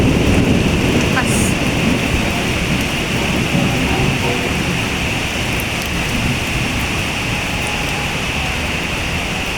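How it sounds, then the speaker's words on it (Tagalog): Heavy downpour on a slick road in traffic, a dense continuous hiss of rain close by with low rumbling underneath throughout, no talk heard. "pagka yung malakas ang ulan dito guys, talagang traffic"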